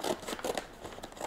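A packet of cherry liqueur spice mix is torn open up close, a brief papery ripping and crinkling of about a second.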